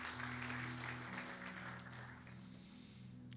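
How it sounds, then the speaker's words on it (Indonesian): Church congregation applauding during an online worship service, a broad sustained wash of many hands clapping, fairly distant and gradually thinning toward the end. "Tepuk tangan yang terbaik bagi Tuhan"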